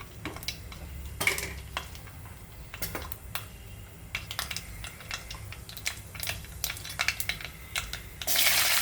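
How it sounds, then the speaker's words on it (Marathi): Mustard seeds tempering in hot oil in a pan, with scattered sharp pops and crackles of varying loudness over a low steady sizzle, close up, growing into a denser burst near the end. "फोडणी करून घेते. त्याच्यामध्ये मोहरी"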